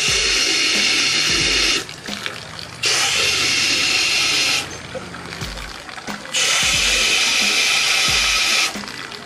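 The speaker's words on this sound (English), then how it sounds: "We got to put water in the sink" Tap water pours into a portable concession sink basin in a steady loud rush that stops and starts twice, leaving quieter gaps with light handling noises between the runs.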